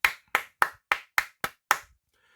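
One person claps seven times in a slow, even rhythm, each clap sharp, close and loud, with a short silence after the last.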